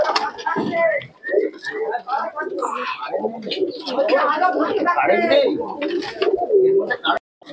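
Cooing pigeons at a Murshidabad pigeon sale keep up a dense, steady burble over several seconds, with people talking nearby throughout.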